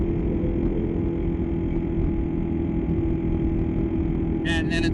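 Kawasaki KLR 650 motorcycle engine pulling hard under throttle on a highway, a loud steady low drone with wind rush throughout and a brief higher-pitched burst near the end.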